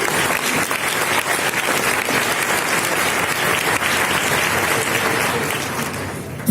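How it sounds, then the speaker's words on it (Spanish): Audience at a literature award ceremony inauguration applauding steadily, a dense, continuous wash of clapping that holds for several seconds before easing slightly at the end. "sí aplaudan."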